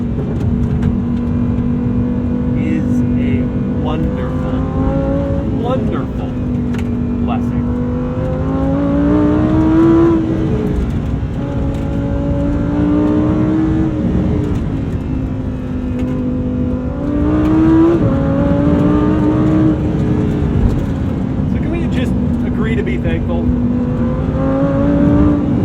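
A Lamborghini Huracan STO supercar is driven hard, its engine revving up and down in repeated surges through gear changes, loud and close from inside the car, with occasional talk underneath.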